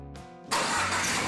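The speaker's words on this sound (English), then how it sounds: "Verify your work by starting the engine." A Chrysler car engine cranks briefly after a cam sensor replacement, then catches and settles into a loud, steady idle nearby.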